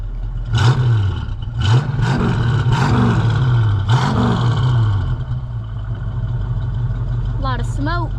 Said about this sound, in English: point it towards the exhaust so we can kind of show people what it kind of sounds like.